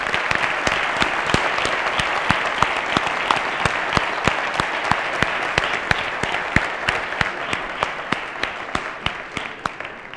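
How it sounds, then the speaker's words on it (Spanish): Audience applauding participants and organizers at a university ideas-competition award ceremony: dense, steady clapping from a sizable crowd with sharp individual claps standing out, sustained throughout. "pues con un aplauso, si os parece"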